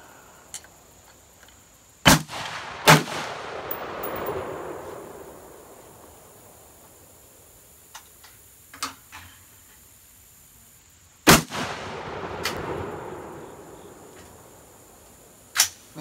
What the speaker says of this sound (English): 3 shots down, 2 left.